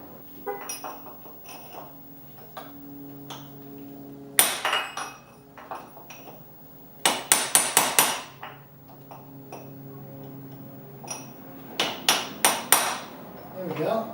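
Sharp metallic hammer strikes bend a lock washer over a nut during a Ninja 1000 chain and sprocket job, coming as scattered single taps and then quick clusters of ringing blows.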